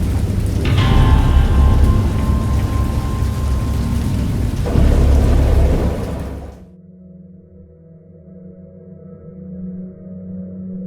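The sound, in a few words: thunderstorm with rain in Dagon video game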